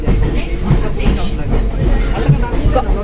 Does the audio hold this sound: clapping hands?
no